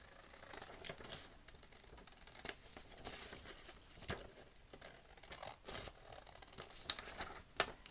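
Scissors cut with a series of quiet, crisp snips spaced irregularly across the moment, close by and alone without speech.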